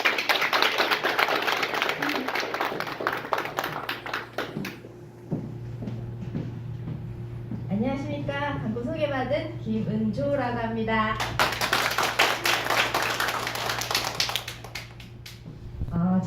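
A seminar audience gives a speaker a big welcoming round of applause, dense clapping at the start, then someone speaks over a low hum, and a second burst of clapping follows.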